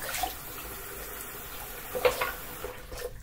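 Water draining and trickling in a sink after a pet bowl is set to soak, faint steady gurgle with a couple of brief louder splashes near the end, no voices.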